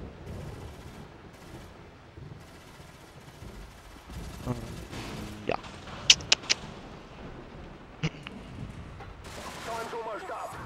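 Gunfire in Call of Duty: Modern Warfare Reflex on the Wet Work map, with scattered sharp shots and short bursts over a busy game background, including a few loud close cracks in the middle.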